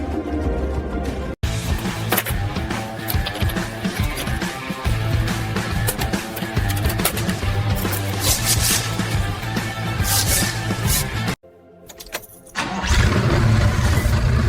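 A 1973 Porsche 911 Carrera RS engine fires for the first time after a barn-find restoration, a loud, dense mechanical roar that runs steadily, drops out briefly, then comes back strong.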